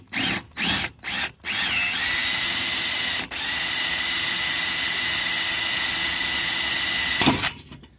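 A power drill with a 3/16 bit bores out a rivet on a Craftsman 6.5 hp push mower. A few short spurts are followed by a long, loud, steady whine that dips once briefly and winds down at the end.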